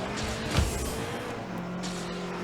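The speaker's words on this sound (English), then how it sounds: "A perfect recreation of the boost sound." Car boost in the video game Rocket League, a continuous roaring whoosh with a brief sharper swell near the start, loud and steady with faint engine tones beneath and no talk.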